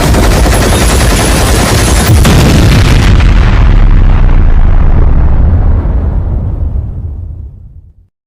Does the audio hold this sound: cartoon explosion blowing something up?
yes